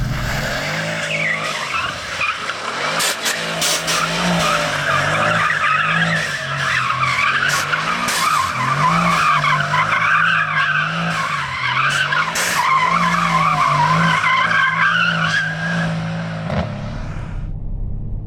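A Mercedes C63 AMG driven hard, its tires squealing and skidding in long wavering screeches over a steady engine drone, loud and close.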